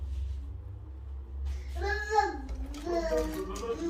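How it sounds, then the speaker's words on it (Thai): A small child babbles and vocalizes in short sing-song bursts, slightly distant, over a low background rumble. "นี่เสียงลูกแทรก"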